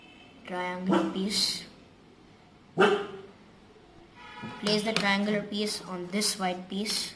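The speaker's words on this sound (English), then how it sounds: "Sorry for the noise, that was my dog." A household dog barks in short bursts nearby, a few sharp yips spread across the moment, while a person speaks calmly between and over them giving building instructions.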